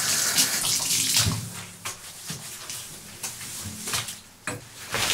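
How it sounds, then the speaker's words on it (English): Water splashes and gushes into a bathtub as it is wetted before cleaning, uneven bursts of running water with soft knocks, fairly quiet and alone. "I found it easier and does a better job if you basically wet the bathtub first."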